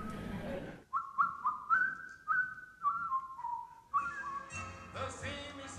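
A person whistles a clear, wavering melody up close, with a run of short rising and falling notes and slides, fairly quiet with some room noise.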